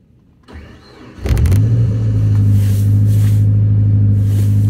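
A long-unused vehicle's engine cranks briefly, then catches and fires into a loud, steady rough idle with a deep droning hum, heard up close and alone.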